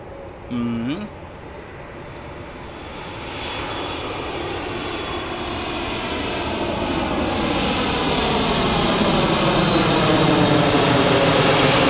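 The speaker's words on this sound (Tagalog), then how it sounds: "Yan, may aeroplano na uli, oh." A passenger airplane landing at Dubai airport roars in from a distance, growing steadily louder and fuller over twelve seconds; a brief voice is heard near the start.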